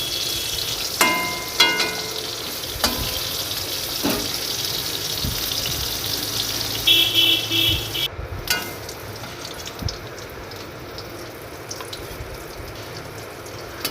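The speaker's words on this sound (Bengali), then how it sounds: "পটলগুলো ভাজা হয়ে গেছে" Pointed gourd (potol) slices frying in oil in a home kitchen, a continuous hiss of sizzling with sharp utensil clicks and taps early on, settling into a steady, moderate frying sound with no talk.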